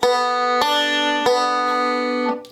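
A banjo picked on open strings sounds a few slow, separate plucked notes that ring out brightly and close, each decaying before the next, with no voices.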